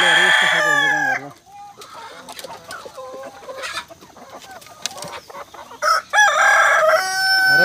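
Two loud rooster crows ring out close by, one at the start and another near the end, with quieter clucking and farmyard sounds in between.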